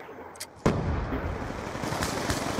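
Gunfire in the video game Call of Duty Black Ops 2: a sharp, loud shot bursts out, followed by a sustained rumbling roar of firing and a few further cracks.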